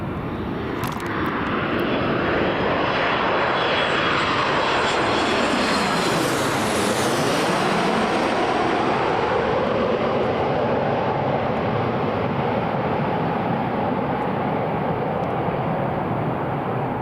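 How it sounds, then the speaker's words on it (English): A TUI airliner comes in to land at Newcastle International Airport, its jet roar swelling loud and close as it passes and then holding as a steady broadband rumble, with a descending whine sweeping across the pass. "Oh, here comes the TUI."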